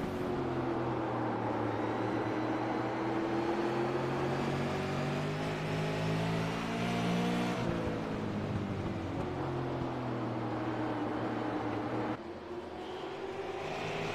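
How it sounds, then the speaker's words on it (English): Race cars at a SARA and EastWest World Series night event, a loud steady engine drone with rising and falling pitch as several cars circle the track, with no talk. "Although the 6 of Schaefer Jr. is trying to get as close as he can and just loosen up the 77's back bumper."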